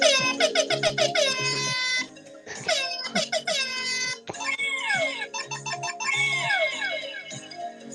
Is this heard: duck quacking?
no